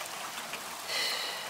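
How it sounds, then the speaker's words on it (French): Steady rain falling outdoors in French countryside weather, a continuous close hiss of drops on surfaces with a slight swell near the end, no voices. "J'aime pas ce temps, franchement j'aime pas la pluie."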